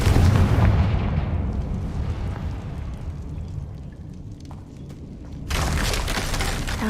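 A loud fiery blast from the Confringo spell in the Hogwarts Legacy video game opens with a heavy boom, rumbles and fades into a low tail, then a second burst of noisy energy crashes in near the end.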